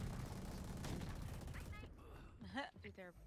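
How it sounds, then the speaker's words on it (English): Dense bursts of video game gunfire rattle loudly through the first half, sharp shots layered over a constant background roar, then thin out as a voice briefly talks over the fading noise. "Every time I fucking turn around, there's someone shooting me from over there. There are bullets everywhere."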